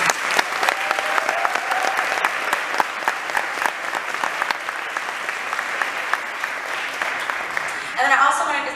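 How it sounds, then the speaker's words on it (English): An honor band concert audience applauding, a sustained and loud wash of clapping from a large crowd that carries on for several seconds before tapering, with a voice beginning at the very end. "if we can give them a round of applause right now."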